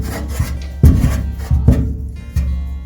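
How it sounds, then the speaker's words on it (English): A handful of close, rasping bursts as screws are driven and tightened into wood while fitting a kitchen extractor hood, with short gaps between turns. "these are the bottom screws to secure the wood from the bottom"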